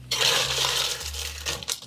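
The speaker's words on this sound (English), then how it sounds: "I'm gonna use ice cubes." Ice cubes pour into a cocktail glass on a bar top with a bright rattling clatter of clinks and chinks that lasts nearly two seconds, close and loud, with no talking.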